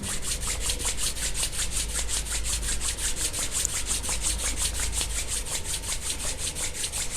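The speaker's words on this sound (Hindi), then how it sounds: "दोनों हाथों को रब कीजिए।" Two hands rubbed briskly together during a yoga and pranayama session, a steady rhythmic swishing friction of about four strokes per second that continues close and clear without pause or talk.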